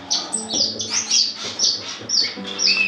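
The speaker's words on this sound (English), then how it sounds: "Up here I have the family of silverbills" A family of silverbill finches, three males and two females, chirps in a bird room with repeated short high tweets and small calls, close and lively, with no talk over them.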